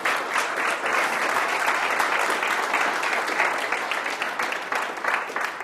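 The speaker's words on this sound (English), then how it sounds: "Give him a round of applause, everybody" An audience at a TEDx event in Portsmouth breaks into a steady, even round of applause that fills the room and continues without talk.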